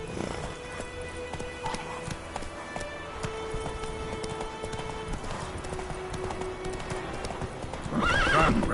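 Roach, a video game horse, moves with soft clip-clop hoofbeats under ambient game sound, then gives a louder, close neigh near the end.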